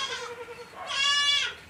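Goat kids bleat in two close, high wavering cries, the second louder and more sustained, with no talking.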